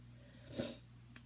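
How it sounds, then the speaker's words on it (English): A single nasal sniffle, a short breathy inhale through the nose rising and fading, close to the microphone over a low steady hum. "Excuse me for the sniffling."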